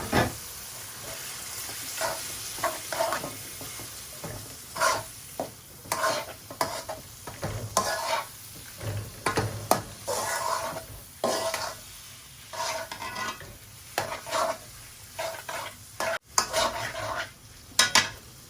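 Boiled taro chunks stirred and fried in a pan for a Bengali garden-vegetable dish, with repeated scraping and clinking of a utensil against the pan over a steady low sizzle, close and moderately loud, no talking.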